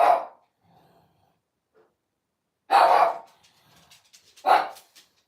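Barks from two pet dogs arrive as three sharp, separate calls spread across a quiet room, loud and near, with faint whimpers between them and no talk.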